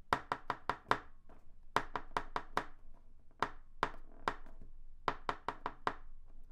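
Crisp close taps play a rhythm-reading exercise pattern, bunched in quick groups of four and five separated by short pauses, each strike dry and distinct with no voice over them.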